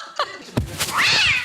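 A cat's meow on a comedy quiz show, played as a sound effect: a short call near the start, then a longer rising-and-falling meow, loud and close, with a thud in between.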